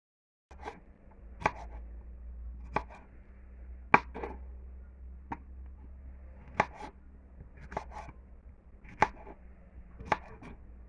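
Knife chops ingredients for Jamaican saltfish and okra on a cutting board, sharp single strikes spaced irregularly about a second apart over a faint steady background hum, close and clear with no talk.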